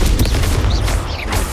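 Spell impacts in Hogwarts Legacy land in quick succession as dense booming bursts and pops, with short whooshing swells between them, loud and close.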